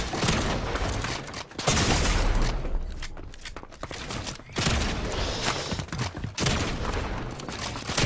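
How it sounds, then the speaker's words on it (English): Gunshots and rapid fire in the video game Fortnite, dense overlapping volleys and booms across the whole stretch, loud and close, with no talking heard. "I missed so many shots right there."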